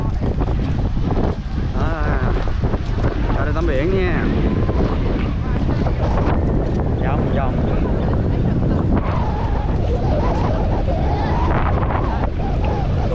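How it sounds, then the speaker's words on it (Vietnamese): Strong afternoon wind roaring into the microphone on the beach at Đồi Dương park in Phan Thiết, a steady loud buffeting with surf, while a person talks throughout. "Trời gió lắm nha các bạn, gió ù luôn á."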